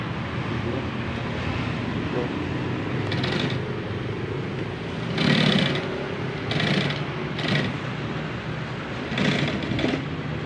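An upholstery sewing machine, Singapore-made, runs in a small seat-cover workshop, a continuous mechanical whir with rhythmic clattering bursts, heard close with people talking nearby.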